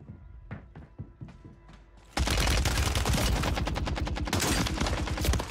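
Rapid automatic gunfire from a Warzone firefight, loud and sustained after a few scattered shots and thuds, bursts tightly packed and continuous to the end.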